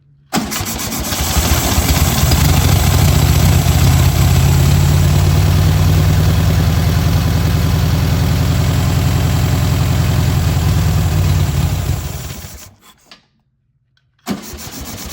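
A small engine starts and runs loud and steady right up close for about twelve seconds, then cuts out abruptly into silence before another brief burst of noise.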